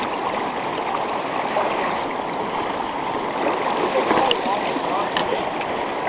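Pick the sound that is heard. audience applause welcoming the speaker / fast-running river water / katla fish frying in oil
fast-running river water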